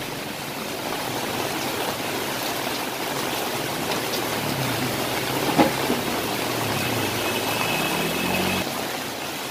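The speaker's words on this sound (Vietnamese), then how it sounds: "Mưa mỗi lúc một lớn, hôm nay cái cơn mưa rất lớn luôn." Heavy rain pours down steadily in a constant dense hiss, with a faint vehicle engine rumbling underneath and a brief knock midway.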